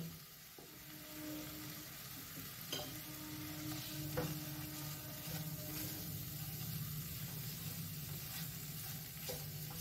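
Spices with chili powder are stirred in a pan over medium flame, giving a quiet, steady sizzle with a few sharp scrape and tap sounds from the spoon.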